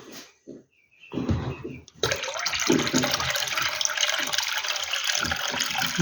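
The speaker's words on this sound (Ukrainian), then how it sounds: "Зараз ми їм водички додамо і будемо важити." Water pours steadily into a small drinker for five-day-old broiler chicks, a continuous close splashing rush that starts after a few brief handling knocks and quiet moments.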